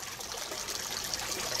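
Water splashes and trickles continuously in a small backyard aquaponics setup, a steady close hiss of falling water with no voices.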